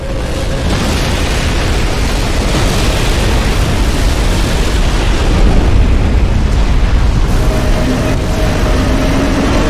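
Massive reactor explosion in Halo tearing apart the Covenant city High Charity, a loud sustained roaring rumble of blasts and debris that swells and continues without break, with no speech.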